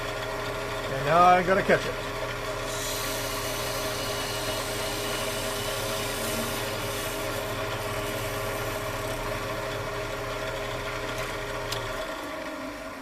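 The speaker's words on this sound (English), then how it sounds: "I just need to part it off all the way through." A wood lathe spins steadily while a bell-shaped Christmas ornament is parted off, a constant motor hum with a brief louder scrape of the tool near the start, and a person talking over it.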